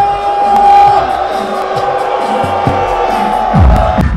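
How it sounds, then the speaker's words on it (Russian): Zenit football fans chanting and roaring in a packed stadium during a Russian Cup quarter-final against Volga in Ulyanovsk, a loud massed crowd with a distant horn tone and shouts rising near the end. "Вот эти славные ребятки из Санкт-Петербурга, которые совсем скоро, возможно, даже перекричат местную публику."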